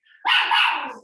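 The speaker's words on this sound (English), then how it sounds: "Sorry, that's my dog." A pet dog lets out a single loud, close bark that holds for most of a second and breaks off after it, heard in a home during a remote online event.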